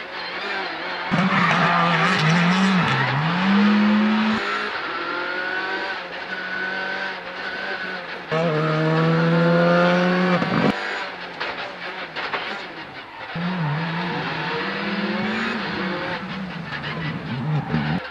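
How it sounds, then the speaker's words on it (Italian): A Skoda Fabia R5 rally car with a 1600 cc four-cylinder 16-valve turbo engine drives hard, its engine note rising and falling through repeated loud revving runs with gear changes, close and continuous. "Skoda Fabia R5 è una delle protagoniste nei rally internazionali, con un propulsore 1600, 4 cilindri, 16 valvole turbo."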